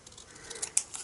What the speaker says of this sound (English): I'm just going to cut off the end